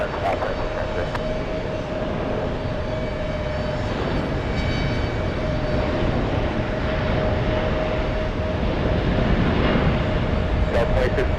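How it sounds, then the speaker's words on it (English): Airbus A380 airliner coming in to land at JFK airport, a steady, loud broadband engine roar with a sustained whine, continuous throughout and heard together with radio chatter in the background. "you see there's a heavy A380 inbound for the parallel"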